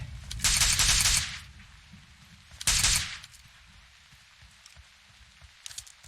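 Rapid automatic gunfire in the mobile battle-royale game PUBG Mobile, in two loud sustained bursts with a pause between them, followed by fainter scattered shots near the end.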